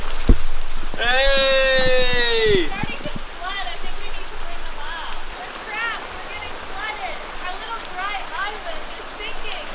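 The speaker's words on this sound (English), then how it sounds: "it's been pouring rain" Heavy rain pours down steadily in a boat yard, a broad wet hiss throughout, with a loud shout near the start and bird calls over the downpour.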